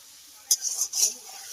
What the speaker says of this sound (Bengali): একটু পেঁয়াজটাকে নেড়ে নিচ্ছি